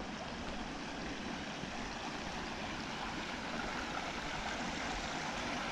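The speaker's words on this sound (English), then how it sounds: "Yeah, so here's the creek." A small creek flows steadily nearby, a constant broadband rushing and gurgling wash of water at a moderate level with no breaks and no voices.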